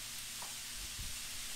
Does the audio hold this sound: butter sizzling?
yes